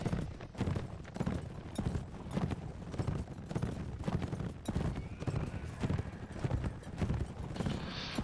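Horses galloping in the video game Mount & Blade With Fire & Sword: a dense, rapid clatter of hoofbeats, loud and continuous over several seconds, with a faint neigh and battle noise mixed in.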